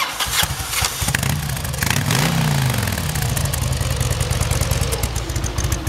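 A 2003 Harley-Davidson Dyna Super Glide Sport FXDX, carbureted with stock exhaust, idles steadily nearby, a low, fairly quiet rumble with a brief rev around the middle, with no voices.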